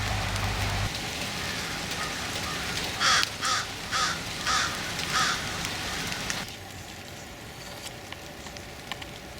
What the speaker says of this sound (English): A rare look at the hoarse voice crow.